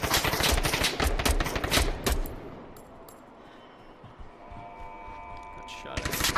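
Rapid bursts of gunfire in the Onward VR shooter game crackle densely for about two seconds, then fade to quieter background sounds with a few scattered shots. Some speech may be mixed in.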